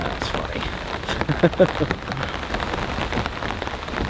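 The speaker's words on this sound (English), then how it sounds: "It's been raining quite heavily for maybe the last half hour or so." Heavy rain from Hurricane Debby pours down around an off-grid cabin, a dense and steady patter on surfaces throughout, with a voice briefly speaking over it.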